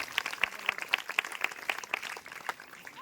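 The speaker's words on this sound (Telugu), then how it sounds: "గట్టిగా చప్పట్లు కొట్టి దేవుడు మహిమపరుద్దాం." Church congregation at a Telugu Christmas sermon claps in an even, quick rhythm, the sharp hand claps fairly soft and distant, with a few louder irregular claps mixed in.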